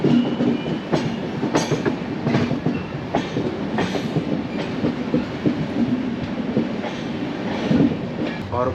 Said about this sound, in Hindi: तो हमारी ट्रेन हो चुकी है भोपाल जंक्शन से डिपार्ट